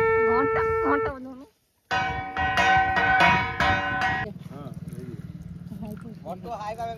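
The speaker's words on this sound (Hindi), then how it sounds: "घंटा बजो भाई घंटा बजा" A bell is rung by hand during Dol Purnima festivities, its bright, ringing tones layered with close voices and followed by a steady motor hum.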